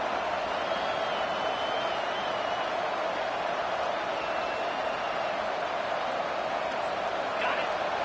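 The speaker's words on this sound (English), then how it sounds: "Decibels rising as the crowd gets behind this defense on 3rd down." A dense, roaring football stadium crowd keeps up a steady wall of noise on third down, loud and continuous, with no clear single voices standing out.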